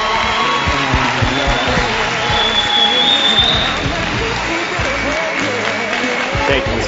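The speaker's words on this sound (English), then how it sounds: "let's give them one more round of applause" Sustained crowd applause from young people at a youth talk by a champion boxer, a dense steady wash of clapping with some cheering mixed in, continuing evenly throughout.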